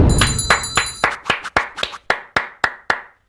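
Hands clap in a steady, even rhythm, a dozen or so sharp claps that grow more spaced and distinct toward the end.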